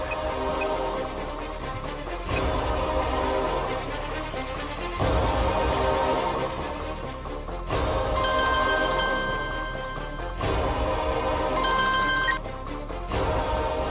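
A telephone rings during a call to a chairman, a looping electronic ringtone with bright repeated chime bursts, steady and moderately loud under background music with no talk.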